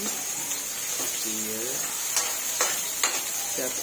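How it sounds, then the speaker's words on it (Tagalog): Onions frying in a pan, being stirred while they cook for a sponge gourd (patola) dish: a steady close sizzle with scraping strokes of the utensil, and someone talking over it. "dinagay natin yung sibuyas guys halu-haluin natin na ganito hanggang mag-iba ng kulay"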